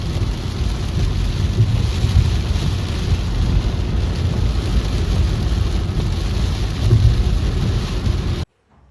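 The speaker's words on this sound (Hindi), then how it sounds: "बहुत ही ज़ोर की बारिश हो रही है" Heavy rain pounds steadily on a car, an Altroz, driving on the Bangalore–Hyderabad highway, National Highway 44, a dense low roar with road rumble that continues unbroken before cutting off abruptly.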